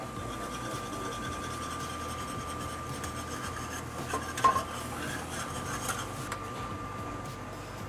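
A spoon scrapes and stirs steadily around a pan of simmering, thickening roux-based sauce with sugar in it, a continuous close rubbing texture with a few light knocks against the pan and no talk.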